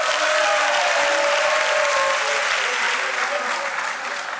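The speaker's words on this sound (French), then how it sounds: "Allez, applaudissez-les pour moi." Loud, steady applause from a studio audience at a televised African talent show, dense clapping with crowd noise that holds strong and then eases slightly at the end.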